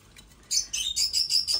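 A single bird chirps alone in short, bright, high calls repeated five or six times in quick succession after a brief quiet start.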